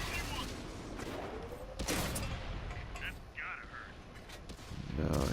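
Tank cannon fire in the video game World of Tanks, with a German Pz.Kpfw S35 739 (f) putting shells down range: loud repeated booming shots over engine rumble and battle noise, a voice talking throughout.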